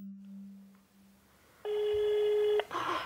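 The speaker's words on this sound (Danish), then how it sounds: "Nu kommer telefonen så." A telephone rings once in a quiet room, a steady electronic trill that cuts off abruptly, followed by faint background noise.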